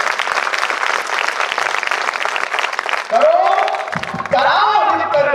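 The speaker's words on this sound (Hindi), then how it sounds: "जोरदार तालियां बजाते हैं" Loud applause from an audience at a Jain temple event, dense clapping for about three seconds before it gives way to voices and other sounds.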